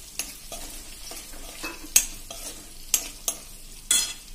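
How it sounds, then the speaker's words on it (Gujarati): Frozen peas stirred in a pan of hot oil while making Punjabi samosa filling: a steady sizzle with repeated scraping strokes of a spoon and a few sharp metallic clinks against the pan, close by and with no speech. "એમાં આપણે 50 ગ્રામ વટાણા નાખ્યા."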